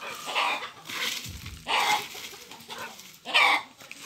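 Chickens on a small rural farm cluck and squawk in agitated bursts, disturbed by a dog, at moderate distance with short pauses between outbursts.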